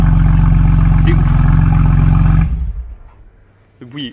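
A BMW M2 with its stock exhaust rumbles loudly and steadily in a showroom, then cuts off abruptly, leaving quiet room noise and a brief voice.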